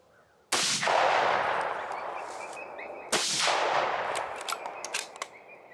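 Two loud rifle shots ring out during a coyote hunt outdoors, each one sharp and followed by a long rolling echo, spaced a few seconds apart.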